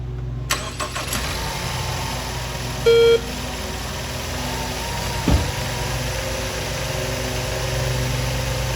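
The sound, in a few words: Ford Edge engine starting up and idling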